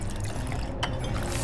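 Liquid pours into a bucket in a cartoon scene, a steady close splashing trickle that fills the short moment alone, with no one talking over it.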